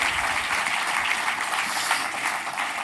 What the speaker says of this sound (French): toute l'équipe mérite vos applaudissements